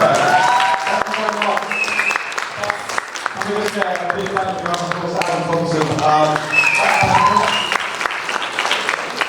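Audience applause rings out at the close of a live talk, sustained clapping that stays loud throughout while someone speaks over it.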